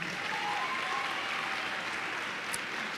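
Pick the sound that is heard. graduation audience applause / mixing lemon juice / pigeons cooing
graduation audience applause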